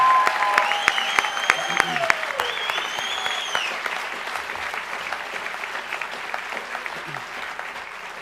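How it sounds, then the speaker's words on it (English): Audience applause for nursing graduates of Dutchess Community College, a dense, sustained wash of clapping from a large crowd that slowly thins, with cheering voices over the start. "please give a huge applause to the graduates of the Dutchess Community College Nursing Program"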